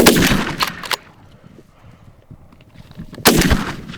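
Two guns firing together at wild turkeys during a western public-land hunt, a loud close blast at the start and a second booming report near the end, quiet outdoor air between.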